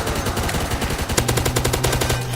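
Rapid automatic gunfire rattles in a zombie shooter game, a tight burst of close, loud shots that speeds into an even faster rhythmic stream halfway through.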